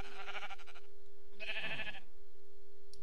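Sheep bleating in Minecraft, two short wavering bleats about a second apart, moderately loud over a steady low in-game hum with no talk.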